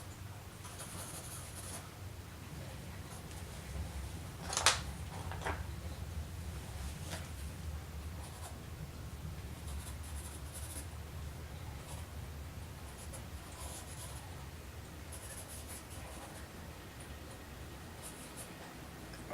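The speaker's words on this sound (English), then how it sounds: "It's the sound of the pen on the paper is." A pen scratches softly across paper during a portrait drawing session, a faint, steady scribbling texture broken by one brief sharp tap, with no talking.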